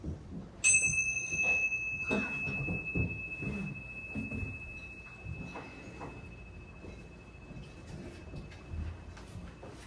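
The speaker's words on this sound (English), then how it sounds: "let me try these sacred bells. See how long you can hear the vibration." A sacred bell is struck once near the start, its bright tone ringing on and slowly fading over quiet, rumbling background noise.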